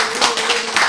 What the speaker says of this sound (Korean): 네, 박수 쳐야지, 이거는.